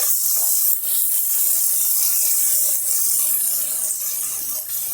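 Steady hissing sizzle of onions and green chillies frying in hot oil, close and continuous, with faint crackles now and then.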